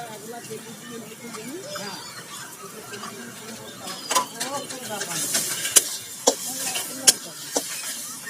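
Taro leaves cooking dry in a village-style pan are stirred with a soft sizzle and scraping, turning into louder rhythmic clanks and scrapes of the utensil later on, close by, with a voice talking throughout.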